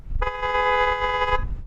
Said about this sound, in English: Now I'm going to honk mine.